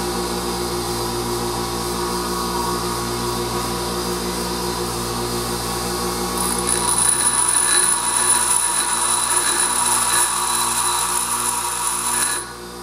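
Steady grinding of a cutting tool to a finer edge in a machine shop, a continuous motor-driven hum and rasp that grows slightly louder partway through and then eases off, with no talking.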